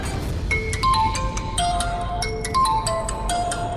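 A phone ringtone plays a bright, repeating electronic melody of short tonal notes, steady and fairly clear, with no voices.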